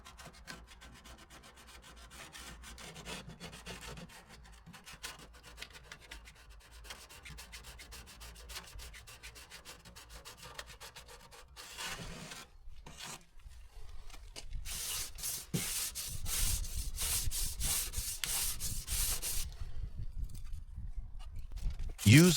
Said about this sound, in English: Then move to a finer grit around 240 to smooth it out.